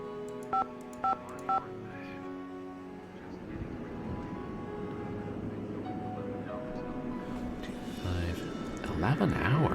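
Three quick touch-tone beeps from a landline telephone keypad in a Nancy Drew mystery game, followed by a low background hum and a rising electronic warble near the end.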